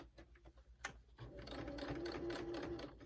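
A home sewing machine stitches a DIY fabric face mask, starting with a few slow mechanical clicks and then settling into a steady close whirring run.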